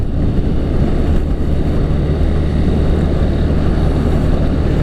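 A 2017 Suzuki TU250X motorcycle is being ridden, its single-cylinder engine giving a steady, loud low drone mixed with constant wind rush, unbroken and close throughout.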